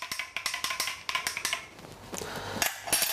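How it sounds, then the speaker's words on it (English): A metal teaspoon clinks rhythmically against a glass, stirring a drink in a string of quick, close, light taps, with a few slower clinks near the end. "Get a teaspoon, give it a lovely mix."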